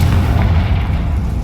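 A Confringo spell explodes in Hogwarts Legacy, a single loud, deep booming blast that rumbles steadily for a moment, close and heavy with no talk over it.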